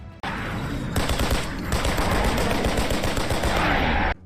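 Loud, sustained machine-gun fire from a war film, a dense rapid rattle of shots that runs continuously for about four seconds before cutting off abruptly.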